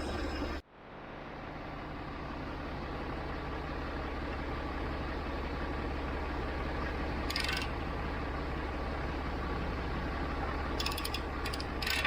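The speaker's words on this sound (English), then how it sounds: "It's all I can do to turn that wrench, and I had to stand on it earlier." A wrench turns a stubborn, tight bolt on a heavily sprung bucket. A dense run of rapid ratcheting clicks sits over a steady mechanical drone, close and fairly loud, and no one speaks.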